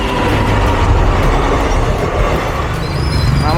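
A train rolls loudly past a closed railway crossing gate, its wheels and cars making a dense, steady roar and rattle close by, with no voices heard.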